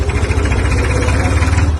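Massey Ferguson 240 tractor engine revving under throttle, a loud, close, pulsing diesel rumble that holds steady through the short stretch.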